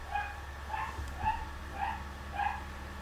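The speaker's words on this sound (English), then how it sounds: "I don't know if you can hear that, but that's my fucking dog." A dog barks at a distance in a regular series of about five evenly spaced barks, faint behind low outdoor rumble at a bush campsite.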